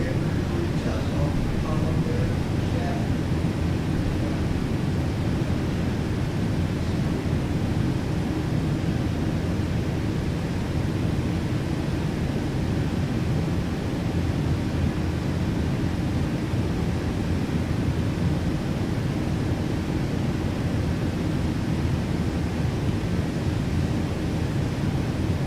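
Continuous low roar of a PMDG airliner climbing after takeoff in Microsoft Flight Simulator 2020, a steady rumbling wash of engine and wind noise at even loudness throughout.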